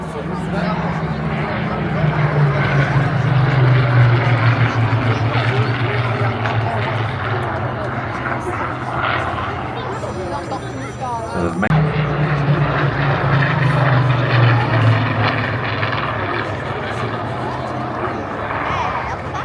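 A Spitfire propeller aircraft passes at an airshow, its engine a loud sustained drone that swells, fades and returns, heard under an announcer's commentary over the crowd.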